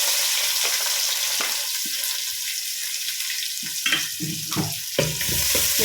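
Chopped onions frying in hot oil for a Mangalorean bondas sukka, a steady bright sizzle with occasional scraping stirs and clinks toward the end.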